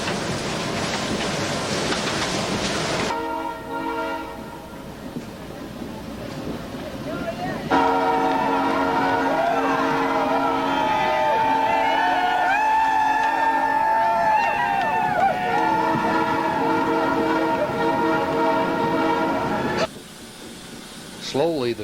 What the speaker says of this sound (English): Slowly, the train proceeded on its maiden voyage through the dark and windy, rain-soaked forest